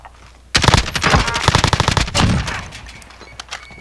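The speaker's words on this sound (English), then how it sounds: "I'd put a whole mag of the MAC-10 in him." A MAC-10 submachine gun in a video game fires a loud, rapid burst of shots lasting about two seconds, then trails off into a brief echoing tail.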